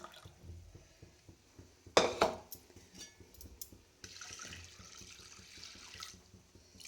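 Faucet water runs into a sink while lentils are washed, with a sharp splash early on, then a steady stream resumes for the last few seconds amid small clinks.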